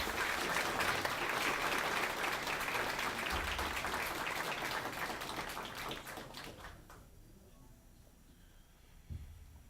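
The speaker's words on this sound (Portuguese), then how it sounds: "vibração de palmas para toda a mesa presidência." At a public hearing, an audience applauds the presiding panel with a broad wash of clapping for about seven seconds, then it cuts off into near quiet.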